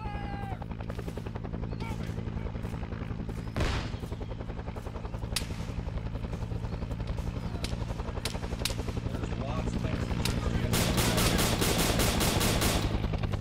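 Gunfire in Arma 3 Vietnam, sharp shots cracking repeatedly over a steady engine or rotor drone, with a sustained burst near the end and voices talking throughout.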